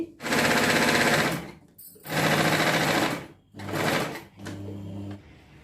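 A sewing machine stitches salwar fabric in three long, steady bursts of rapid mechanical whirring, each separated by a brief pause, close and loud, ending in a quieter final run.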